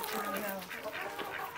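A turkey gobbles in a brief, fairly faint burst of warbling calls outdoors in a Turkish village setting, with no talk during the sound.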